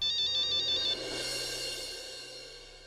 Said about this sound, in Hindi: सॉरी शेखर, तुम्हें इतनी रात को मैंने फोन किया।